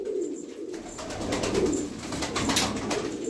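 Several tumbler pigeons, including Nakışlı and Zeytuni filo birds, coo in soft, repeated throaty rolls, overlapping close by with some faint chirps and ambient noise in a loft.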